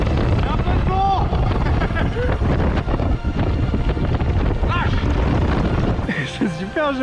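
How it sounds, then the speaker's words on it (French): Strong wind buffets a microphone high in the Alps, a loud continuous roaring rumble with gusty surges, while a person talks over it in short bursts. "Un peu de vent."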